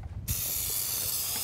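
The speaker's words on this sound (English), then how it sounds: "we're just going to spray our pan really well" Cooking spray hisses from a can onto a cheesecake pan, a sudden close burst that starts after a brief quiet moment and holds as a steady, bright spray.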